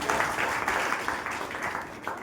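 Audience applause at a church service, a steady, moderately loud wash of many hands clapping with no talk over it.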